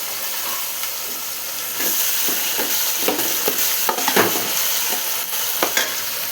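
Boiled peas go into a hot pan of frying masala and are stirred, giving a constant close sizzle with hiss and a string of soft scraping spoon strokes, no voices present.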